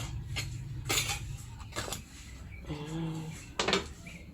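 A metal wok and cooking utensils clink and scrape in a home kitchen, several bright clanks spaced irregularly, with faint talking in the background.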